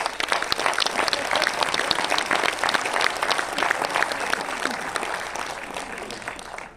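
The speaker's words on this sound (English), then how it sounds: "give a round of applause to all the women sitting here" An audience at a direct selling leadership event applauds the women seated among them, a sustained crowd of clapping hands that stays even and moderately loud from start to finish before tapering slightly.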